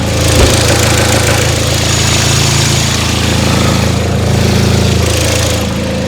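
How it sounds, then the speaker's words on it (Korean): A Kia K5 2.0 engine idles steadily up close, a loud, even mechanical hum with a light rhythmic ticking, no knocking and no voices. "바로 엔진 소리 들어보도록 하겠습니다"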